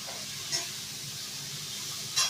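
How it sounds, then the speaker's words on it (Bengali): Leafy greens frying in fish oil in a pan give off a soft, steady sizzle and hiss, with two brief louder spits rising out of the quiet crackle. "শাক ভাজা বসিয়ে দিয়েছি মাছের তেল দিয়ে"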